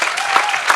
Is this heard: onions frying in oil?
no